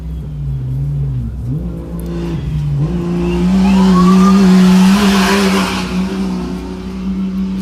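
A stock mod dirt-track racing truck roars past near a late corner, its engine note climbing and shifting as it approaches, then a loud broadband rush of engine and tire noise peaks and fades as it passes.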